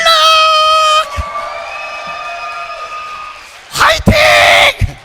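A church congregation cheers and shouts in a loud, close burst at the start, then a drawn-out sung tone holds before short, loud bursts of crowd shouting return near the end.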